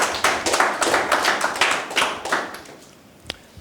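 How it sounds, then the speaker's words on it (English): A lecture audience claps for itself, with dense applause for about two and a half seconds that thins and fades, followed by a single late clap. "Please, a round of applause for yourselves."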